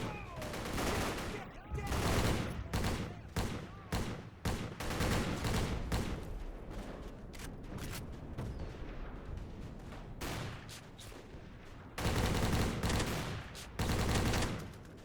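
Automatic weapon fire in a World War II trench-fighting video game, with dense rapid bursts of shots and explosions running almost continuously, loud and close, with short gaps between volleys.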